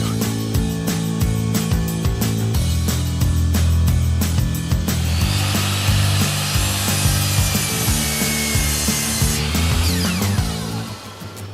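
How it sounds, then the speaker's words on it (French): Hand saw cutting through a hardwood floor plank in rapid rasping back-and-forth strokes, loud and close, ending as the cut finishes. "Coupez la dernière planche de chaque rangée pour l'aligner avec la précédente."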